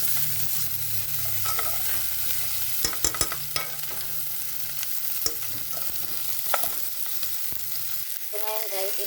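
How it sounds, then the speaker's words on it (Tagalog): Chicken feet frying in oil are stirred in a pan, with a constant close sizzle broken by sharp clacks and scrapes of the utensil. The sizzle cuts off near the end, leaving a few faint knocks. "Haluin lang natin."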